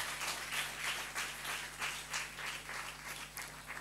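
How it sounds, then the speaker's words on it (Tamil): A church congregation claps together during a Sunday service, the strokes landing in a loose, steady rhythm over a faint constant hum. "சரி ஓகே, கைத்தட்டு ஜோராக கைத்தட்டு பார்ப்போம்."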